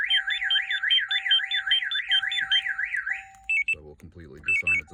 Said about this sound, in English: alarm's gonna go nuts again.